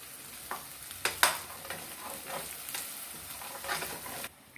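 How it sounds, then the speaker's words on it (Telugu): Masala ingredients for a spinach fry sizzle in a pan under a steady hiss, broken by several close spoon scrapes and stirs, with a sharper clatter near the start and a sudden drop to quiet at the end. "కొంచెం ఎర్రగా వేగాలండి మనం తీసుకున్న ఇంగ్రీడియంట్స్ అన్నీ"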